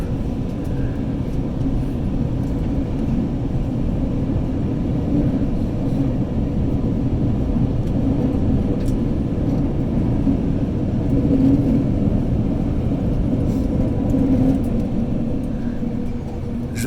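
Airliner landing roll on a runway in Tahiti, a steady loud cabin rumble and roar of engines and wheels throughout, heard from inside the plane with no talk.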